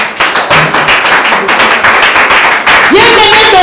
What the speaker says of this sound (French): Acclamez pour le frère.